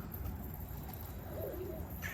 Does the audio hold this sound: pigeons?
yes